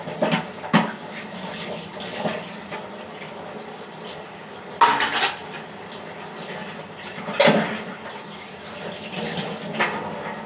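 Dishes being washed under a running kitchen tap, a steady water rush with several louder splashing bursts and clinks spaced through, close by with no talking.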